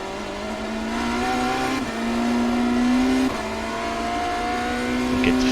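A BMW M Hybrid V8 LMDh race car in iRacing at Sebring drones loud and steady at high revs, its pitch climbing through the gears with short dips at each upshift and no talk over it.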